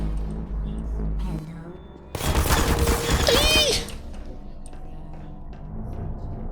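An automated turret in Portal with RTX lets loose a loud, rapid burst of gunfire lasting a couple of seconds, with mechanical whirs, before quieter room tone returns.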